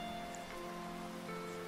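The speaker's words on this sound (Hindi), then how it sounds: "अचानक से बारिश बहुत तेज हो गई।" Heavy rain pouring down in a deserted park, a steady, dense hiss of falling water heard alone at a fairly faint, even level with no breaks.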